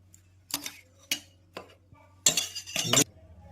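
Chicken pieces being mixed with salt and yogurt marinade for KFC-style chicken, with a utensil scraping and clinking against a bowl in several short bursts, then two longer, louder stretches of wet mixing close by.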